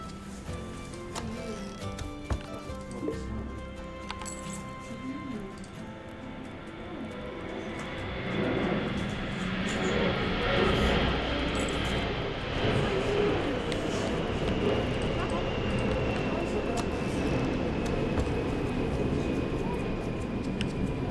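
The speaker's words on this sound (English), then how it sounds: "One thing I cannot control is the planes." An airplane passes overhead, its engine roar swelling from a distant rumble into a broad, loud wash that holds steady, with a faint descending whine layered on top.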